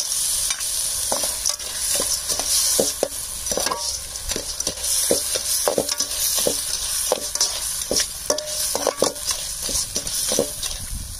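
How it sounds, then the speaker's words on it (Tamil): Village-style crab gravy cooking as crab pieces go into a pan over tomatoes, followed by steady loud frying sizzle with repeated clanks and scrapes of a stirring ladle throughout, no talking. "இப்போ நண்டு போட்டுக்கலாம்."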